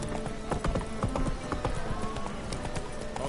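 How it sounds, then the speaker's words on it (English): Hooves of a galloping horse in The Witcher 3 pound in a fast, steady clip-clop rhythm, near and loud, with a brief whinny-like snort and faint game ambience around them. "Run, Roach"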